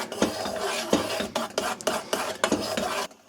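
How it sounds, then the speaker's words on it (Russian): A spoon stirring sugar syrup for homemade caramel colouring in a pot, giving repeated scraping, clinking strokes in an uneven rhythm, close and fairly loud, ending abruptly. "Хорошо перемешиваем."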